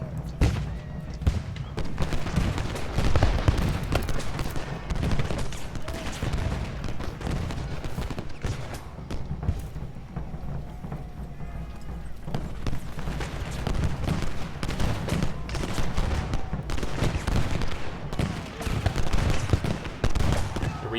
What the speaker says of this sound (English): They're ready to fire off a nice volley as they approach the enemy